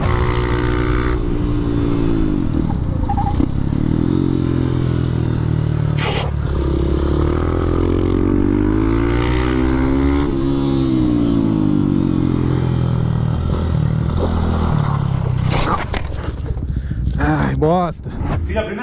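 A motorcycle ridden hard through curves on a hot racetrack, its engine droning loud and close, the pitch sweeping down and up repeatedly through corner entries and exits.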